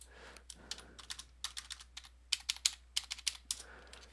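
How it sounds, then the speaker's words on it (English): Numbers being typed on a computer keyboard make quick, crisp key clicks in irregular bursts, close and clear, over a faint steady hum, with no talking. "I gotta start typing the numbers here."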